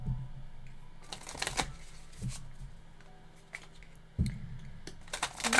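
You Are Here oracle cards being shuffled, close and crisp, with bursts of riffling and soft card slaps broken up by short pauses and a few low thumps.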